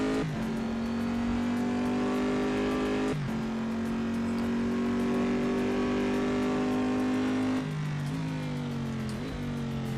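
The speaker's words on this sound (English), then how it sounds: "This car sounds like a monster truck." A race car's engine in the Assetto Corsa driving game drones loudly and steadily, holding a deep tone with sudden drops and climbs as the gears shift. The engine plays on its own with no talking.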